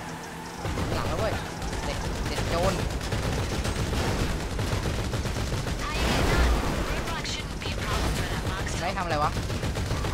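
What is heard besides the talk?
gunfire in GTA V Online video game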